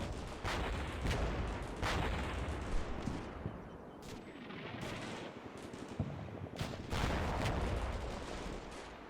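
Gunfire rattles through a battle in the video game Combat Mission Shock Force 2, with dense bursts of automatic fire and sharp reports over a constant roar of combat, loud and continuous.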